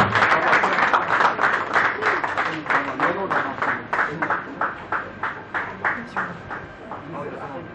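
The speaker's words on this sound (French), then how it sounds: "Sous vos applaudissements, mesdames et messieurs de la presse." Applause from members of the press greets an artist at an album launch, starting as a dense clatter and thinning into a slower, rhythmic burst of claps that fades toward the end, with voices heard underneath.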